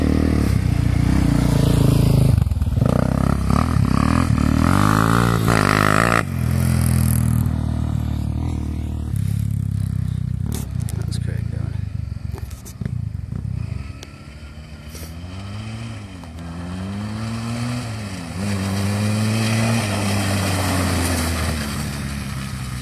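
Quad bike engine while riding, a loud close rumble that revs and drops repeatedly, with rising and falling pitch sweeps as the throttle changes, continuing for over twenty seconds with no talk.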